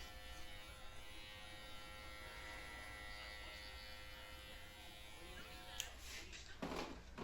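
Electric hair clippers with the guard fully open cutting hair at home, a soft, steady buzz running close and quiet with a few brief rustles near the end.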